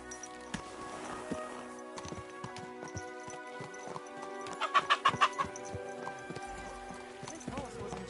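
Horse hooves clip-clop steadily in Kingdom Come: Deliverance II, a close, rhythmic trot with a brief flurry of sharper hoof strikes midway and faint fowl clucks and ambient game sounds around it.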